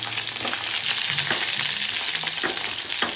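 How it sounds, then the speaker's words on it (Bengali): Brinjal (eggplant) frying in a pan, a loud continuous crackling sizzle of hot oil with occasional spatula scrapes, nearby and alone. "তাহলে এখন বেগুন ফ্রাই করব।"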